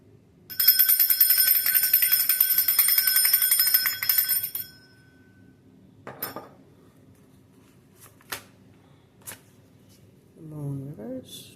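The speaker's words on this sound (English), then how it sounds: "I'm going to ring the bell, so it might be a little loud" A hand bell rings loudly and continuously for about four seconds, its bright metallic peal cutting off abruptly, followed by a few soft clicks, taps and card shuffles, then brief talk.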